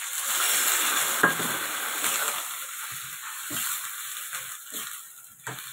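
Water goes into a pan of fried spice masala, setting off a steady broadband sizzle that slowly eases, with a few soft stirring knocks underneath.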